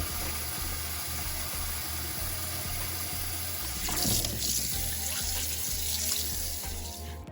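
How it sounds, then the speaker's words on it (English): Cold water runs steadily from a kitchen tap into a sink while hard-boiled eggs cool for deviled eggs, a constant near splashing hiss that swells louder partway through, with no talking. "go ahead and turn your water on to cold."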